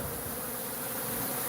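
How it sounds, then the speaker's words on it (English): Honey bees swarm around an open hive in a dense, continuous buzz that fills the short stretch at an even, moderate level, close by, with no talk. "look at all the bees"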